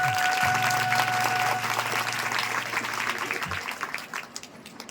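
An audience at a Hindi religious discourse claps, a thick wash of many hands that runs continuously and slowly thins out toward the end, with a low droning tone and some voices in the background.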